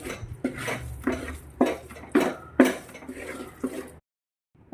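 Jackfruit and ghee mixture stirred in a pan with a spoon, giving repeated scraping and knocking strokes in an irregular rhythm, fairly close and clear, with a short silence at the end.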